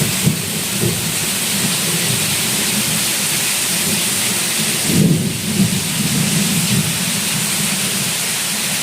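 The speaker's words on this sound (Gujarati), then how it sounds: "સંભળાય છે ને વીજળીનો અવાજ?" Thunder rumbles through a heavy rainstorm, a low roll swelling midway over the constant loud hiss of pouring rain.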